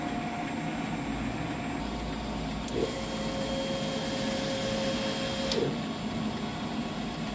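An inkjet printer runs a nozzle check, whirring steadily with a faint electronic whine and two soft mechanical clicks as the print head moves, heard close and alone.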